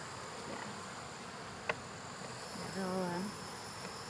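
A steady swarm of honeybees buzzes throughout against a quiet outdoor homestead backdrop, with one louder droning pass drifting close for a moment.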